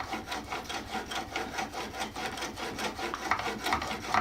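A Defiance No. 3 plane blade is rubbed back and forth on a water stone in rhythmic, gritty strokes, each a rasping scrape repeating about twice per second, close and clear with no talk.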